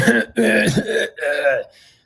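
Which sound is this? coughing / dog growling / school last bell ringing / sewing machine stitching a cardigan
coughing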